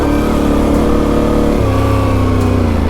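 A dual-sport motorcycle engine revs hard and steadily on a backcountry trail in the Idaho backcountry, a loud, close, continuous drone that drops to a lower pitch partway through as the throttle changes.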